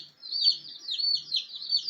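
Newly arrived baby chicks chirp in a brooder, a dense run of high, close peeps repeating in quick overlapping bursts, no talk.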